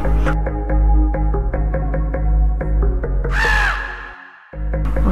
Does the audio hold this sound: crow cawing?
yes